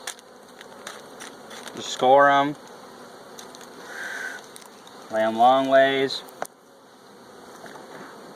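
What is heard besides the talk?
honey bees buzzing around hive while feeding pollen patties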